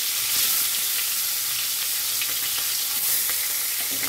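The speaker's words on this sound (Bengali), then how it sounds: "তেল গরম হয়ে গেছে, এবার মাছের মাথাটা দিয়ে দিচ্ছি।" A salted, turmeric-rubbed fish head, broken into small pieces, fries in hot oil with a loud, close, continuous sizzle and spatter, punctuated by light stirring scrapes.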